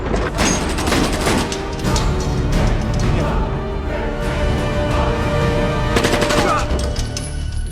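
Dense, continuous gunfire from a film scene as a female agent opens fire with pistols and grenades, with rapid overlapping shots and booming impacts, loud and unbroken throughout.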